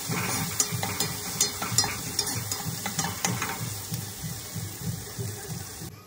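Chopped onions frying in a pan with salt and turmeric powder for an Iranian dish, a steady close sizzle with soft rhythmic stirring scrapes throughout, nobody talking.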